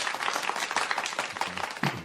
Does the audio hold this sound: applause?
yes